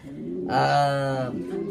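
A racing pigeon gives a single drawn-out coo, close and fairly clear, rising then fading over about a second against quiet background.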